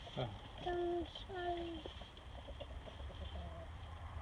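Chickens and a rooster cluck in a coop as they head outside, a few short tonal calls near the start over a steady low background with some faint voices.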